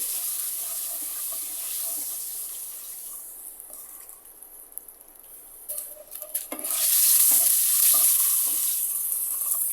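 Halved boiled eggs fry in hot oil seasoned with salt and turmeric, a steady sizzle with stirring and scraping that quiets midway, then swells into loud, bright crackling toward the end.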